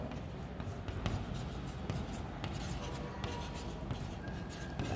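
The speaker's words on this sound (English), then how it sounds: "So I will write here nature of" Steady scratching and tapping of marker or chalk writing on a classroom board during a chemistry thermodynamics lecture, continuous close strokes with brief pauses and no talk.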